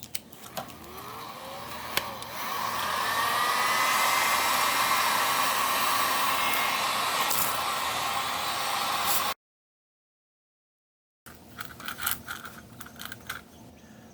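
A Harbor Freight heat gun blows a steady, loud whooshing roar while heating PVC pipe, running continuously for several seconds before cutting out, followed by faint handling clatter.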